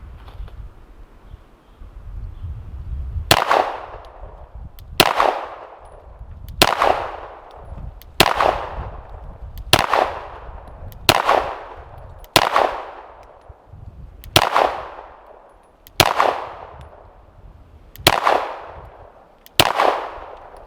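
Eleven loud, sharp pistol shots from a Glock 19 Gen 5 fitted with a Tyrant CNC threaded match-grade barrel and thread protector, fired at an outdoor range in a slow, even rhythm, each crack followed by a brief ringing echo.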